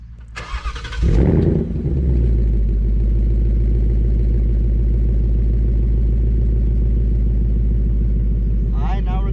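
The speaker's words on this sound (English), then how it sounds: "I'm going to give you guys just a startup on the regular active Ford Performance exhaust" A Ford Mustang Mach 1 engine with the stock Ford Performance active exhaust cranks and fires up with a loud burst, then settles into a deep, steady idle rumble that carries on to the end.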